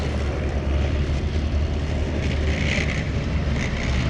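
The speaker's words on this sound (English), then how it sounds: "The Scimitar coming around very, very quickly." Aluminium-armoured Scimitar reconnaissance vehicle driving past fast at a Cold War tank show, a steady loud engine roar with rushing noise and no speech.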